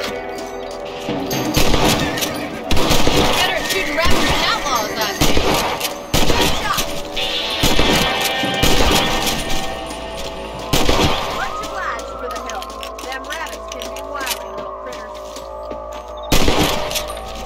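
Rifle gunfire in Red Dead Redemption running on the Xenia Xbox 360 emulator, a series of sharp, loud shots in irregular bursts mixed with crashes and game sounds, several clustered early and a few more spaced later.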